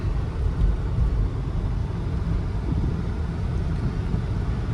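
A small 6-cylinder car engine, about 3 liters, in a manual-transmission car running through its gears. A low, steady rumble is heard from inside the car, with no distinct gear change standing out.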